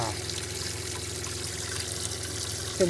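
Water flushes out of a 2018 Vistabule teardrop trailer's water tank as a steady, faint rushing and trickling stream.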